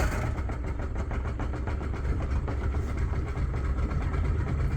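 A Yamaha outboard motor, freshly started from cold after new spark plugs, idles with a steady, close, dense mechanical rumble that holds at an even level throughout.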